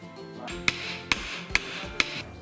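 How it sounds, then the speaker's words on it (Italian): A hand-made olive wood hammer strikes four times at a steady, slightly uneven rhythm, each blow a sharp, loud knock over low workshop background hum, with no talking. "Troppo forte questo martello."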